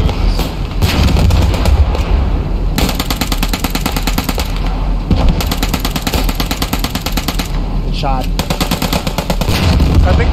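Dense automatic gunfire from a military shooter video game, rapid bursts and continuous rattling volleys nearly filling the whole stretch, loud and close with occasional heavier booms.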